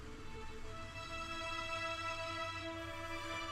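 A free violin section VST plugin (VSCO2) in its regular articulation mode plays a sustained melody, with long bowed notes shifting in pitch over a steady low backing, continuous and fairly quiet with no voices.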